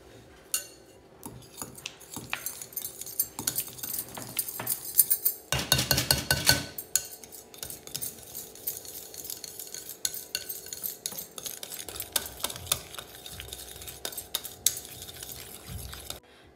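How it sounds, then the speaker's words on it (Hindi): Butter being whipped in a bowl for a no-oven chocolate biscuit cake, heard as steady scraping and clinking of a utensil against the bowl throughout, with a louder, denser burst of stirring partway through. "अभी हम लोग बटर को व्हिप करेंगे।"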